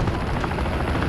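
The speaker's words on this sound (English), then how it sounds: "Enemy chopper gunner on approach." Steady, loud whirring rotor roar of an enemy chopper gunner helicopter in Call of Duty: Modern Warfare, filling the moment with continuous broadband noise and no speech.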